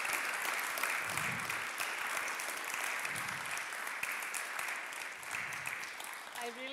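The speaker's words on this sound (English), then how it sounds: "let's give a round of applause." Sustained applause from an audience at a church gathering fills the whole stretch, steady and fairly close, with a few low thumps beneath it.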